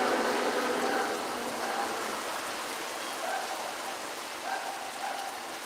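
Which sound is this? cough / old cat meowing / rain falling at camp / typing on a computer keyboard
rain falling at camp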